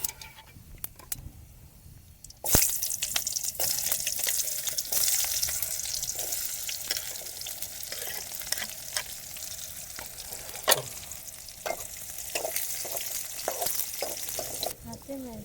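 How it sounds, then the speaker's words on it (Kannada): Scattered raindrops patter and tap during a thunderstorm at a night campsite, a steady hiss of fine drips with sharper individual hits throughout, beginning after a quieter opening. "ಮಳೆ ನೋಡಿದ್ರೆ ಬರ್ತಾ ಇಲ್ಲ. ಅದೇ ಹನಿ ಬೀಳ್ತೈತೆ."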